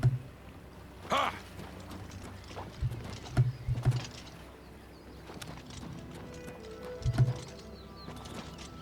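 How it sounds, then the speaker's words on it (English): Hooves of a horse in The Elder Scrolls IV: Oblivion Remastered clop in a few short bursts against a faint outdoor game ambience with scattered bird calls, moderately near and with no speech. "This horse has been here forever."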